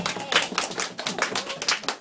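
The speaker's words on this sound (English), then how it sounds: "Big clap, please" A class of children clapping during a Victorian Day classroom session, a short burst of uneven, separate claps that rise and fall over two seconds, moderately quiet.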